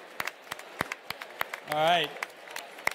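Sparse, scattered claps from a small conference audience at the Airbnb Open, faint and uneven single hand claps spread across a few seconds, with someone speaking briefly in the middle.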